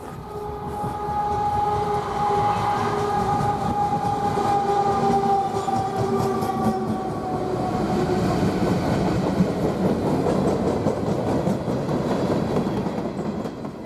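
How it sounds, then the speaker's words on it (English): A BNSF freight train passing in Cheyenne, Wyoming, a steady loud rumble with a sustained horn tone early on, giving way to rolling wheel noise and rail clatter that continues throughout. "a surprise BNSF train shows up."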